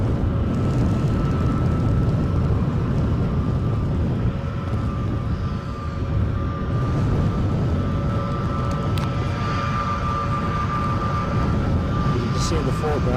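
Airbus A321neo jet rumbling steadily in the distance at Edinburgh airport under gusty wind, a continuous low drone under faint background noise.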